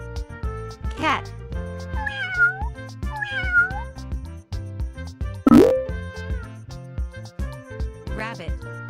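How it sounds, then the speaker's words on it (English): A domestic cat meows once, loud and close, a single drawn-out call standing alone over soft background music. "Cat."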